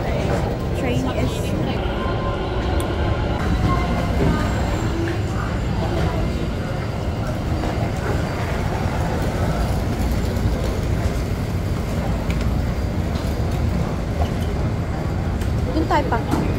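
An MRT train in Taiwan runs with a steady, loud low rumble and rolling noise throughout. People talk over it.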